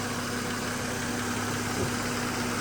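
A 2010 Mercedes E350 Convertible engine idling steadily with a smooth, even hum and a faint low drone, with no talking over it.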